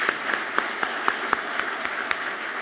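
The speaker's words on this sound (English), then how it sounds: "Let's give her a round of applause" Scattered applause from an awards ceremony audience honoring distinguished alumni, a steady wash of hand claps with sharper individual claps recurring at an even beat, moderately distant and without talk.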